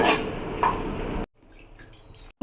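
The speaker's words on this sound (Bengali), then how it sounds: "এটার মধ্যে আমি এখন জল দেবো" Water pours into a pan for aloo kulcha dough, a short close splash and trickle lasting about a second before the sound drops to near quiet.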